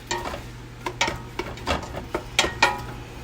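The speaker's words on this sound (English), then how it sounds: "we got a nice sizzle. Let's get this in and stir and saute for about 5 minutes." Onion, jalapeno and minced garlic sizzle in a pan for chicken tortilla soup while a utensil stirs, producing repeated close scrapes and clicks over a gentle frying hiss, with no talking.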